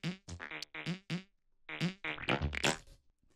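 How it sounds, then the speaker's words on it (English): A string of separate fart sound effects, gathered from an online sound library for an arpeggiator pack, sputters out in quick bursts of varying pitch with a short gap, then a denser run of wet blurts. "That is a load of fart sounds, not mine, that I've sourced from freesound.org"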